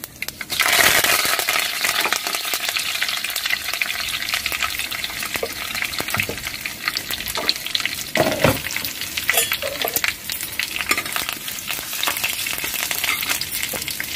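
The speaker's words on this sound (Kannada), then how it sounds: "ಸಾಸಿವೆ ಚಟಪಟ ಅಂತಿದೆ ಜೀರಿಗೆ ಕೂಡ ಹಾಕಿದ್ದೀನಿ" Mustard seeds and cumin spluttering in hot oil as a tempering for a potato and vegetable stir-fry, a steady crackling sizzle with sharp pops throughout, close and with no talk.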